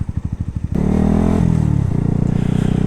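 A 2017 Yamaha YZF R125 motorcycle engine chugs in a quick pulsing idle-like rhythm, then rises into a loud, steady drone with shifting pitch while riding in the city, heard close up with no talk.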